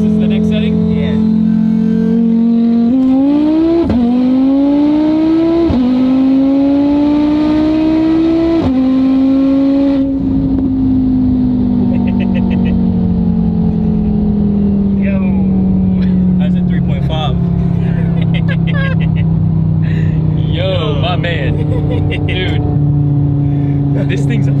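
Tuned 1150HP Audi TT RS engine accelerating hard under boost, heard from inside the car as a loud droning roar that climbs through several quick gear changes, then holds a long steady pull, with people talking over it.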